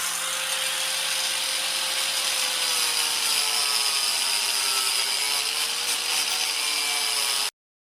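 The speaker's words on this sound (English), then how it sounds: "That's a sanding disc." A power tool fitted with a sanding disc grinds steadily against a wooden yard sign for several seconds, a continuous harsh whir with a slowly shifting pitch, then cuts off abruptly.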